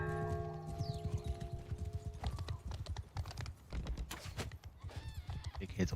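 Horses clatter with hoof clip-clops and an occasional whinny amid the clash of a medieval-style multiplayer video game battle, busy and continuous throughout, with voices talking over it.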